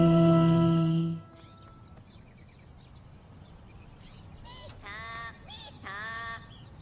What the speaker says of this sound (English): I've never heard a bird call like that before.